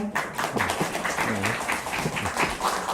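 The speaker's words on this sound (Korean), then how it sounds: "자, 큰 박수 부탁드릴까요?" Audience at a book launch talk clapping steadily, a dense patter of applause filling the room for a few seconds with faint voices mixed in.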